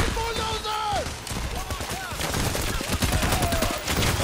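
Rapid gunfire from the video game Payday: The Heist, a dense crackle of shots with a chaotic firefight behind it, partly masked by speech and other game sounds.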